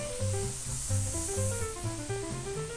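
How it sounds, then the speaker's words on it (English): Baking soda fizzes in a pot of hot boiled dates for sticky toffee pudding, a steady close hissing and crackling foam layered over soft tonal background music. "Watch, it's going to get really fizzy."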